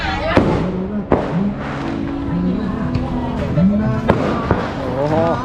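Fireworks burst repeatedly at a crowded Loy Krathong festival, with sharp bangs and crackles that go on nonstop while people talk nearby.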